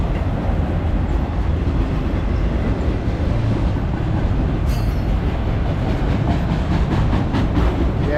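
A BNSF westbound auto rack freight train rolls past at a steady, loud level, its wheels clacking over rail joints as it slows down, with no talk over the continuous rumble.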